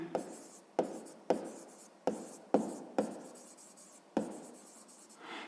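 Pen writing out a sixth-grade math task by hand, a string of short scratchy strokes with sharp taps at the start of each, close and quiet, with no voice over it.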